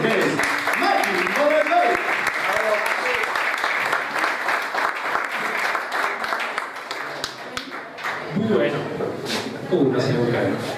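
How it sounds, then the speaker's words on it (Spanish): Audience welcoming a magician onstage claps loudly and continuously, a thick wash of applause that thins near the end as a voice comes in over it. "Entonces recibanlo con un fuerte aplauso con ustedes."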